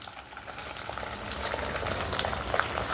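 Boiled cluster beans tossed into a hot garlic tempering give a steady, close frying sizzle with soft crackles and occasional stirring clicks, continuous throughout without any talking.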